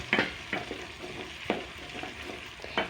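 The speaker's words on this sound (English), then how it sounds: "Let's allow our green capsicums to cook." Green capsicums cook in a pan with a soft, steady sizzle, broken by a few sharp clacks as a utensil stirs or strikes the pan.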